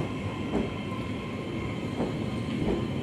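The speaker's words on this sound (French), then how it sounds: "bien sympa les rames électriques. C'est tellement plus silencieux que les rames diesel." A new electric train on the Hakodate line runs at steady speed, giving a continuous low rumble with faint periodic rail clicks. The sound stays constant and fairly close throughout, with no voices.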